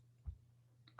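A computer mouse clicks during a lecture session, giving two or three soft, short clicks spaced apart over a low, steady electrical hum, with no speech.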